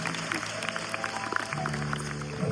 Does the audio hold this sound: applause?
yes